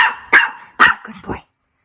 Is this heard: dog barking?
yes